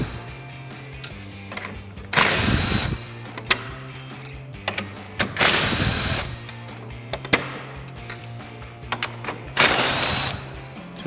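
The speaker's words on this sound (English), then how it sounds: "So now I'm going to take my 3/8 gun, my 10mm. We're going to remove these 4 bolts here that hold the grille in place." A 3/8 impact gun with a 10mm socket removes grille bolts on a 2013-2018 RAM 1500 in three loud bursts of rattling whir, spaced apart, with quiet moments between them.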